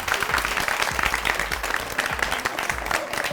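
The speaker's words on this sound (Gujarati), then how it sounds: "તમારા લોકો માટે એકવાર જોરદાર તાળીઓ થઈ જવી જોઈએ." Audience applause at a game show, dense steady clapping throughout, loud and close, with no voices over it.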